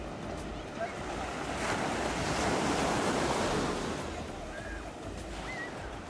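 Sea surf rolls in at Baga Beach in North Goa, where a river meets the sea and boats gather. A continuous roar of waves swells in the middle, with wind buffeting the microphone and faint voices in the background.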